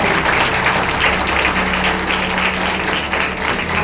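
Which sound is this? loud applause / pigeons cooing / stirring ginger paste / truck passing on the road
loud applause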